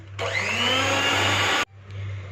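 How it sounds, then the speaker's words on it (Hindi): An electric hand mixer beats room-temperature butter or ghee for a chicken cake, running loud and steady with a high whine, then cutting off abruptly before a softer motor hum resumes. "इसमें 1 टेबलस्पून रूम टेम्परेचर पे मक्खन या घी डालेंगे। 2 मिनट के लिए अच्छे से बीट कर लेंगे।"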